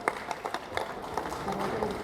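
Audience applause at a Savitribai Phule birth anniversary celebration, a crowd clapping in thanks for a guest: light, scattered claps that run on beneath someone speaking into a microphone.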